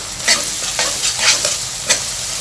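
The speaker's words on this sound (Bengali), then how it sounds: "এখন আমি পেঁয়াজের সাথে আদা রসুনের পেস্টটা একটু ভালো করে মিশিয়ে নিচ্ছি।" Ginger garlic paste is stirred into onions frying in a pan while cooking chicken feet, giving a steady sizzle with repeated scraping stirs of the spoon, close up and with no voices.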